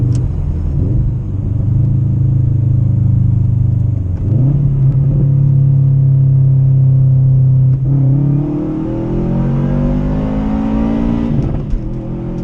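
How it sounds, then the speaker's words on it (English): Subaru WRX fitted with a Cobb Accessport pulling hard in second gear, its engine droning loud and steady while the pitch climbs, dips briefly at about four seconds, then rises again and eases off near the end. "drop down a gear and give you guys a bit of a second gear pull here"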